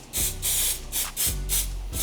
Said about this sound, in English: we're going to spray the rocket release. This is just a basic release agent so we can pull everything out later.